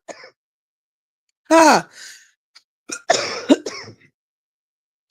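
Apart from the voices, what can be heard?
dry cough and throat clearing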